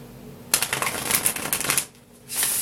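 Tarot cards are shuffled by hand in a quick burst of riffling and flicking, followed by a brief pause and another shuffle near the end, close and fairly loud with no voices.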